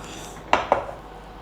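Two quick metallic clinks ring out as a utensil taps against a ghee-greased flat plate while putnala halwa is spread evenly, with a faint quiet background otherwise.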